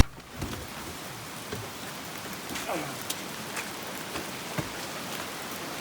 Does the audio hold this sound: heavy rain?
yes